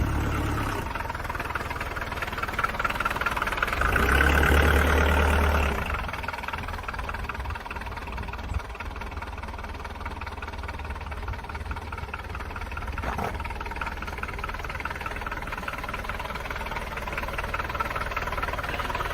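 Rusty Citroen BX engine idling steadily nearby, a continuous even rumble that swells slightly early on, then holds level with faint clanks in the background.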